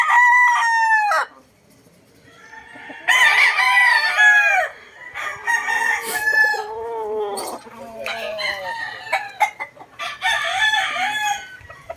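A gamefowl rooster of the Bone Crusher Hatch line crows loudly and close by, with one long crow at the start and further crowing and clucking following in bursts, with no talk over it.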